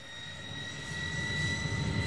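A fixed-wing airliner's engines roar steadily on a runway at takeoff, a low rumble with whining tones that grows gradually louder over about two seconds.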